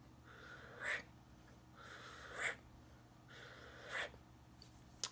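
A person demonstrates jerky, uneven breathing, the wrong way to do circular breathing: three separate breaths, each a short rough rush of air ending in an abrupt sharp catch, close and fairly quiet against a low steady hum.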